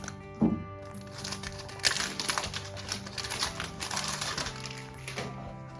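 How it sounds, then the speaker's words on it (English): Cellophane wrap being cut and peeled off a Parfums de Marly Greenley perfume box makes close, quiet crinkling, snipping and tearing noises in a quick irregular patter. "Go ahead and cut off the cellophane here."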